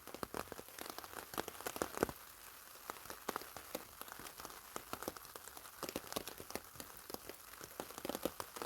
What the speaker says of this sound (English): wait till the rain goes over.